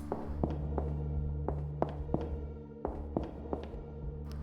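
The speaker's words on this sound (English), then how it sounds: "You can hear that your footsteps kind of echo a little bit here." Footsteps in an empty hallway of a point-and-click game, about a dozen hollow steps at an unhurried walking pace, each leaving a short reverberant ring in the quiet space.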